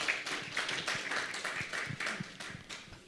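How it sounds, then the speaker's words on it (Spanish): An audience at a church prayer service applauds, a soft, steady patter of many hands clapping that holds evenly for a few seconds at moderate distance. "un fuerte aplauso"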